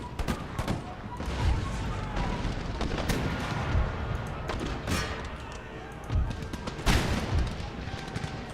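Puckle guns fire in an Empire: Total War battle, giving repeated sharp cracks and dull booms set against ongoing battlefield rumble, with a voice talking over it.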